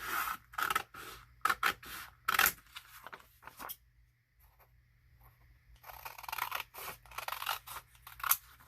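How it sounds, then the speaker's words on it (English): Scissors snipping through paper in quick crisp cuts, a pause of quiet, then another run of steady snipping, close by. "So with my handy dandy scissors, I am going to just cut along the folded lines."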